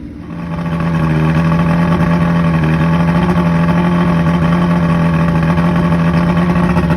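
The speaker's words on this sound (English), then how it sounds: "This motor is so reliable." Boat outboard motor running steadily on a crab fishing trip, a loud close droning hum that holds an even pitch throughout after a brief rise at the start, with no voices.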